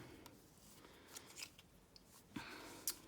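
Scissors snip through paper to cut a small square for a paint-and-doodle craft, giving a few quiet, crisp cuts spaced irregularly, with soft paper rustling between them.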